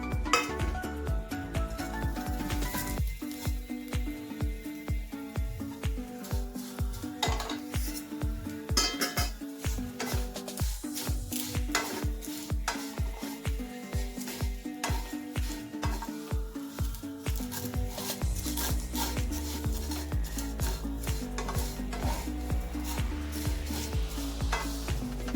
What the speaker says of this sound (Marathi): तर आपण या थोड्याशा भाजून घेऊया, भाजलेल्या असतात पण अजून थोड्याशा भाजून घेऊ।